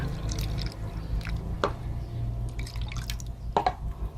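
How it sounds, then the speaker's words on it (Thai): Water poured over guava seeds during seed preparation, heard as soft splashing and drips with a few brief wet bursts over a steady low background hum. "เอาน้ำใส่นะคะ"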